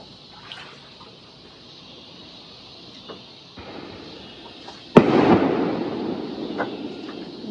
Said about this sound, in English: there's gonna be some good fireworks tonight. It ain't even dark